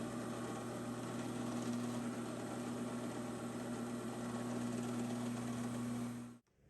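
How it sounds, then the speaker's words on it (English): A drill runs steadily and close for several seconds, boring holes for hanger bolts in wood for a media stand, with a constant hum that cuts off abruptly at the end. "And drilling the holes for the hanger bolts."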